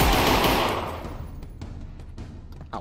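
Gunfire in the John Wick Half-Life mod video game: a loud blast fades out over the first second, followed by a string of fainter, sharp shots and clicks, with one louder crack near the end.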